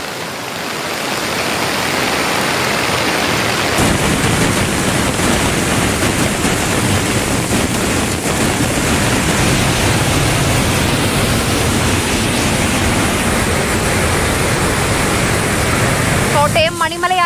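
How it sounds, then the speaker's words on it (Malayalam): Heavy rushing water at Marmala waterfall, a tourist stream in Kerala swollen by heavy monsoon rain, roars as a loud, steady broadband wash that fills the whole stretch without a break. "വിനോദസഞ്ചാര കേന്ദ്രമായ മാർമല അരുവിയിൽ നീരൊഴുക്ക് കൂടിയിട്ടുണ്ട്."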